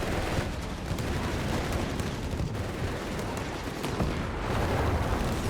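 Gunfire in Company of Heroes 3, a World War II strategy game match pitting Afrika Korps against US forces: a dense, continuous rattle of rifle and machine-gun shots with booming blasts, all steady and loud throughout.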